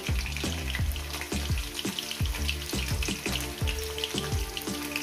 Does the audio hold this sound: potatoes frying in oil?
yes